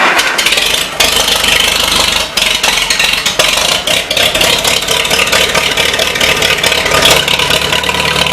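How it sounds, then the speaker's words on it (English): A 1953 Farmall Super H tractor engine running steadily and loudly up close, a dense continuous mechanical roar with some rattle and brief dips in level. "Definitely a good running tractor."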